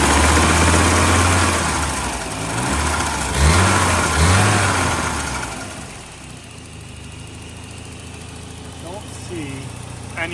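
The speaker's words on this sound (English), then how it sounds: "Let's give it a couple revs." A classic Saab 900 engine, just repaired after a fuel leak, idles steadily before being revved twice in quick succession, the pitch climbing and falling, then settling back to a low idle.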